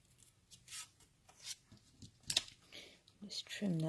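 Paper is trimmed with scissors while making a birthday card: a few quiet, scattered snips and rustles close by, with a voice coming in at the end.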